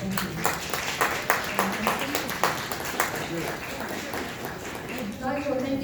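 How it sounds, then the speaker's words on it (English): Audience at a community presentation giving a round of applause, rhythmic group clapping that is fairly close and moderately loud, tapering off as a voice begins speaking over it. "So if I can just get you to give them a round of applause again"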